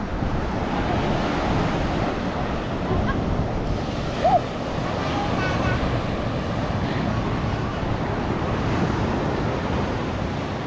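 Constant rough surf and gusting wind roar together, waves churning without pause, with a brief faint voice-like sound in the middle.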